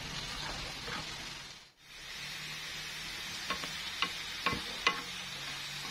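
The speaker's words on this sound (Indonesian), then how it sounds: "Jadi, kita akan buat bawang putih goreng. Goreng sampai kecoklatan." Sliced garlic fries in a pan until golden, giving a steady bright sizzle that dips briefly, then returns with a few sharp clicks and scrapes as the pieces are stirred.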